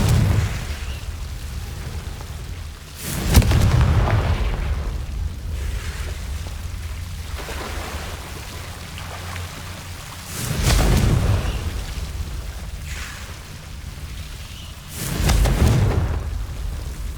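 Fire spells exploding in the Hogwarts Legacy video game, heard as three loud, booming bursts spaced a few seconds apart, each rising sharply and fading over a low, steady rumble of game ambience.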